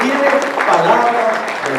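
Applause from a church congregation during a worship service: a dense, steady wash of clapping sustained across the whole moment, with faint tonal sounds mixed in.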